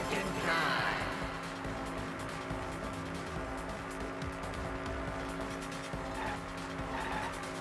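A car in the Danganronpa V3 driving game skids continuously, its tires squealing over a steady engine roar that lasts throughout.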